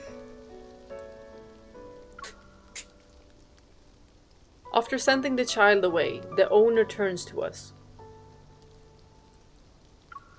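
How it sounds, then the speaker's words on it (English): Rain falls steadily in a scene from the video game Love and Deepspace, a soft continuous patter heard alone at first and then under a stretch of spoken dialogue before settling back to quiet rainfall. "Looks like this rain won't let up anytime soon."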